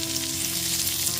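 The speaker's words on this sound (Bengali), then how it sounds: "গ্যাসের ফ্লেমটা লো টু মিডিয়ামে রেখে 2 থেকে 3 মিনিট ধরে একটু ভেজে নেব।" Vegetables fry in oil in a pan over a low-to-medium gas flame, a brief, continuous, close crackling sizzle with no voices.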